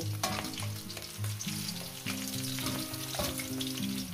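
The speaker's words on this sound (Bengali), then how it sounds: "মাছগুলো আমার ভাজা হয়ে গেছে, তুলে নেব।" Fish pieces fry in a pan with a soft, steady sizzle and occasional crackles, fairly quiet and set beneath a sustained tonal melodic sound in the background, without speech.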